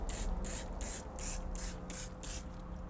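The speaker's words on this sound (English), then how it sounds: "Spraying it in between the spokes, the lug nuts, the valve stem, all the way to the back of the barrel" A trigger sprayer mists diluted wheel cleaner between wheel spokes, lug nuts and valve stem, a steady series of seven quick hissing bursts in an even rhythm, close and moderately loud.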